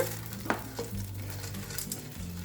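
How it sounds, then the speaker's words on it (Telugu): Gond, edible gum, frying in ghee in a pan for a sugar-free laddu: a steady close sizzle with a few scrapes of a stirring spoon, and no talking. "ఈ గోండ్ని కాస్త ఫ్లఫీగా వచ్చే వరకు కూడా ఫ్రై చేసుకోవాలి"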